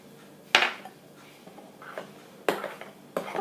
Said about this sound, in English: this is probably enough stirring